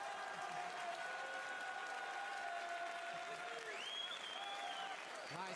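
Crowd applause for finalists at a Yu-Gi-Oh! Championship Series event in Bologna, dense and continuous clapping filling the whole stretch at a moderate, slightly distant level.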